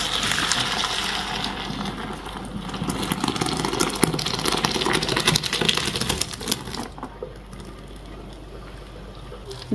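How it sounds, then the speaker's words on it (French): Cooked rice being drained, water gushing and splashing steadily for several seconds up close before it eases off into a quieter trickle and hiss. "on va égoutter le riz"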